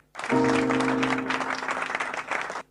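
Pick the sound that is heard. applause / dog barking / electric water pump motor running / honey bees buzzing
applause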